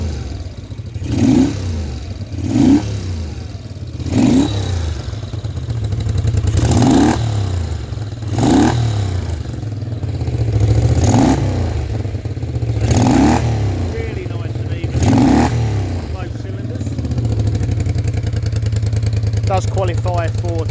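A Moto Guzzi V50 Monza motorcycle engine idles with a steady throb close by, then revs up again and again, the pitch climbing and falling in regular bursts.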